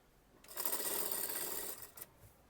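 A sewing machine runs in a single quiet burst of about a second and a half, stitching a curved seam on a kurti. Fabric is pushed along by hand, with a faint knock near the end.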